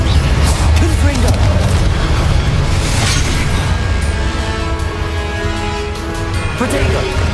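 A booming Confringo explosive spell in the video game Hogwarts Legacy, a loud low blast that rumbles and decays over several seconds beneath swirling game effects.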